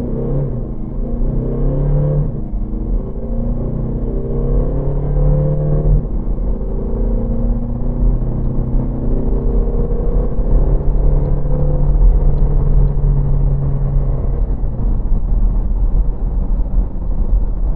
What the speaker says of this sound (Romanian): Zero 100 în modul manual, o să las cutia să schimbe singură, să vedem dacă o face mai rapid.